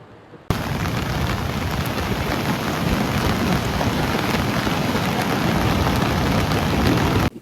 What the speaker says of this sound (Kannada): ಮಳೆ ಬಂದ್ಬಿಟ್ಟು ಸಕ್ಕತ್ತು